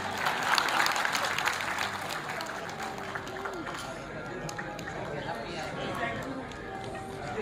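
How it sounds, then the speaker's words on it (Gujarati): An audience applauds steadily through the whole stretch at a Gujarati comedy stage play staged in Patan, a dense, even patter of many hands that holds from start to finish. "તાળી પાડો"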